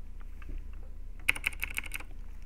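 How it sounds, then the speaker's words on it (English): Mechanical keyboard typing picked up by a Blue Snowball Ice microphone: a few faint scattered key taps, then a quick burst of sharper, louder clicks in close succession lasting under a second. "It's a mechanical keyboard"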